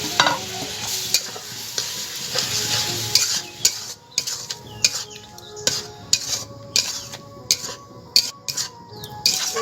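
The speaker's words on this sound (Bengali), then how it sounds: "এরকম নেড়ে চেড়ে আমি একটা পুরটা বানিয়ে নেব" A milk, jaggery and coconut filling is stirred in a wok for rice-semolina pitha, with repeated close metal scrapes and clinks of a spatula over a soft sizzling bubble, no voices.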